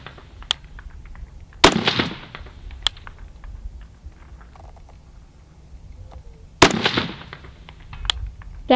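Two loud, sharp rifle shots at an outdoor range, the second one about five seconds after the first, firing from a BCM rifle with a 14.5 or 12.5 inch barrel, with faint ambient noise between them.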